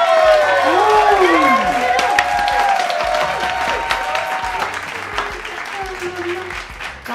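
Family members clap together for a birthday cake cutting at home in Canada, a loud, steady burst of hand claps with cheerful voices and singing-like tones running over it, tapering slightly toward the end.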